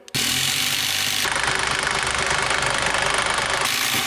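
A Milwaukee drill driver driving a screw, a loud continuous motor whine that starts abruptly, rises in pitch partway through and holds steady for about three seconds before stopping.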